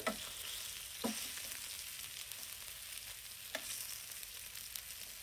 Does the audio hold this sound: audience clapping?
no